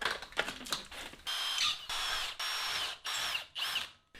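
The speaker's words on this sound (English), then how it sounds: "I guess we're drilling 1/4-inch holes." A power drill bores quarter-inch holes in metal for forged barn door hardware: a run of close, whining bursts broken by short pauses, preceded by a few sharp clicks and clatters.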